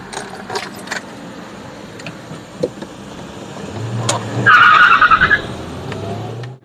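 A Hyundai Solaris car engine rumbles up close, rising to a loud revving roar with a brief skid before settling into a steady drone.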